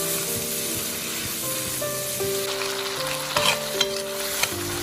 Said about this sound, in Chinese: 把蒜苗放入锅中，大概翻炒10秒左右，把蒜苗炒至断生